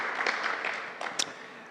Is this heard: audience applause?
yes